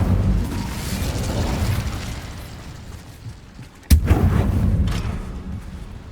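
A fire spell cast in Hogwarts Legacy, heard as a sudden sharp burst near the four-second mark, cutting through a steady low rumbling game ambience and followed by a continued roaring swell.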